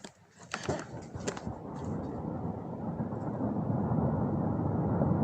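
A deep rumble of thunder from a Normandy storm rolls in after a few close clicks and builds into a long, low sustained roar that doesn't fade.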